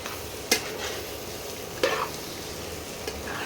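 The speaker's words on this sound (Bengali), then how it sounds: "এইবারে ভালো করে মিশিয়ে নিতে হবে বন্ধুরা" Fish roe jhuro is stirred in a pan over a soft sizzle, with two distinct scraping strokes and a lighter third, close and fairly quiet, no voices.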